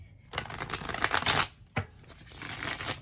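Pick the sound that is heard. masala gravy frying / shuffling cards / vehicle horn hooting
shuffling cards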